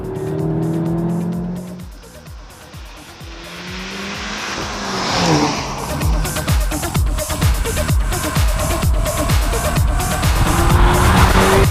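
An Audi S3's turbocharged four-cylinder engine roars loudly, revving hard with tire squeal and skidding, the pitch climbing and falling as it accelerates through gears.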